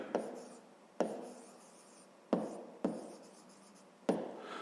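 Pen strokes on paper during a fifth-grade maths exercise: faint, soft scratching with a sharp onset every second or so, recurring in a loose rhythm in a quiet room.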